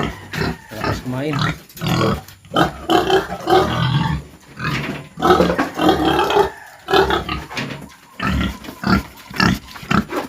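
Pregnant sows chomp greedily at a coconut pulp and salt mash, with close grunting and wet chewing running under someone talking throughout.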